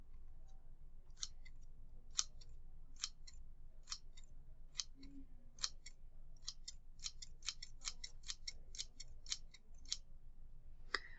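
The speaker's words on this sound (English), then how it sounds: "Scissors." Sharp metallic snips of scissors cutting, many quick clicks in uneven bursts, close but quiet against a faint background hum.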